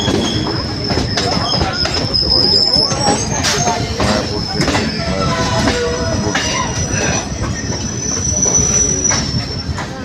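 A crowded train rumbles past up close near Mayapur, with loud wheel squeal and screeching metal over a steady heavy roar throughout.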